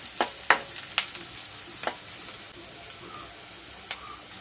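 Onion and garlic frying in a pan for a Malvani-style taro leaf dish, a soft steady sizzle punctuated by sharp scraping stirs near the start and a few more later.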